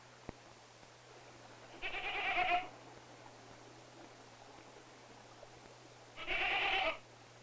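Two loud, drawn-out goat bleats from feral goats on the Galapagos Islands, each lasting under a second and separated by a few seconds of quiet, over a low steady hum.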